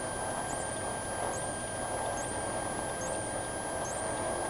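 A Cessna light aircraft in flight around the Salt Lake area, heard from inside the cabin as a steady, even engine drone with faint tonal whine and short chirps repeating about once a second.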